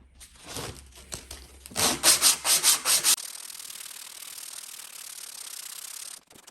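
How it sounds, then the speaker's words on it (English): Sandpaper rasps with the grain over a carved ancient kauri wood bass neck in a quick run of rhythmic strokes, then a softer, steady scratchy rubbing continues before stopping. "then we can sand with the grain to remove all the scratches we've just created"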